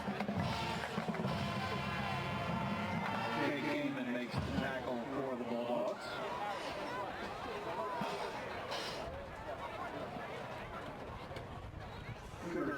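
Crowd noise at a high school football game between the Wilson Bulldogs and Harrisburg Cougars: a dense, continuous roar of cheering and chatter with a shift in tone midway, voices overlapping throughout.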